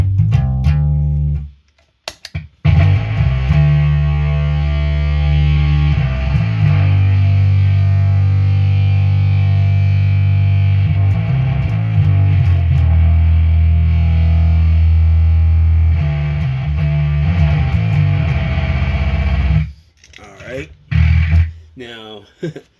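Bass guitar played through an animated fuzz effect pedal, a thick, heavily distorted and sustained tone ringing loud and close for most of the stretch, with brief gaps near the start and a switch-over near the end.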